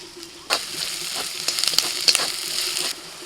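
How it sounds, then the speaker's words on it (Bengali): Onion frying in oil with ginger-garlic paste added, a steady close sizzle broken by sharper crackling bursts and brief stirring scrapes, with no voices. "পেঁয়াজটা কিছুক্ষণ ভেজে নিয়ে দিয়ে দিচ্ছি আদা রসুন বাটা"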